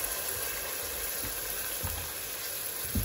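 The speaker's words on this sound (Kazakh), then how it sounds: "Осы жаңағы мына су қайнап жатыр." A pot of water for cooking rice boils on the stove, giving a steady, moderately quiet bubbling hiss throughout with no talking.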